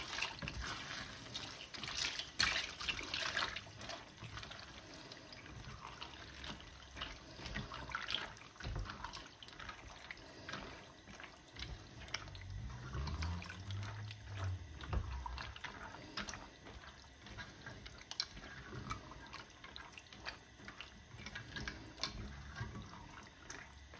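Tap water runs and splashes into a container while cooking sausage and bacon pasta, with clinks and handling noises around it and a brief low thud partway through; no voices.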